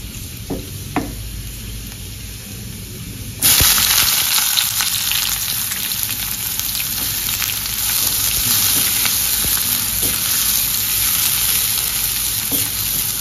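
Onions sautéing in a pan: a steady frying sizzle, faint at first, then jumping to a loud, continuous crackling hiss with occasional stirring knocks.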